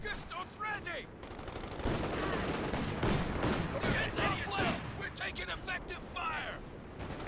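Sustained strafing gunfire from an aircraft run in Company of Heroes 2, a dense roar of rapid shots and impacts filling the whole stretch, mixed with other battlefield effects and a voice talking over it.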